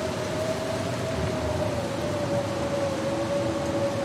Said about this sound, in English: these storms are too loud